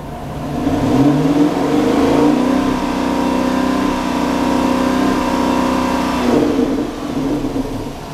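A Dodge Hellcat Hemi engine revs up to 3,500 RPM and holds there with a loud, rising, steady whir and roar for several seconds, then drops back toward idle.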